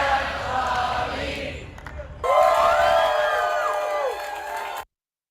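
An audience at a World Environment Day event bursts into loud cheering, whooping and clapping, a swelling group shout that holds steady for a couple of seconds before cutting off abruptly.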